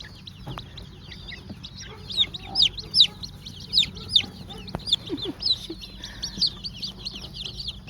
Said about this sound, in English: So we have a ton of chickens.